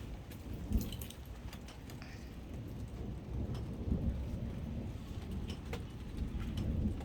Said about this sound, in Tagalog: kumukulog-kulog